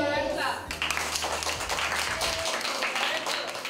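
Studio or school audience giving a brief round of clapping for a young spelling bee champion, moderately loud, following a moment of music and talk at the start.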